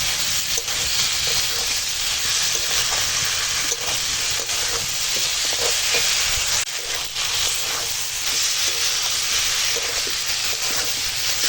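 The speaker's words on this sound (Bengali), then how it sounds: "ভেজে রাখা পটল দিয়ে এখন ভালো করে কষাবো" Pre-fried pointed gourd (potol) being stir-fried in a pan, a constant loud hissing sizzle close up, with faint scrapes of a spatula scattered through and no talking.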